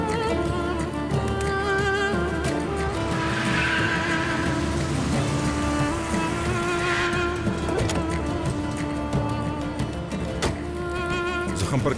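A car skids in with squealing tires during a tense hospital emergency, the screech rising over a steady bed of music and ambient noise; voices are present.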